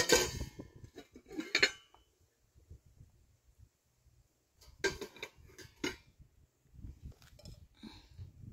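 Dishes being washed after a pork barbecue grill session: clinking cutlery and clattering plates in irregular bursts, with quiet gaps and soft rustling between them.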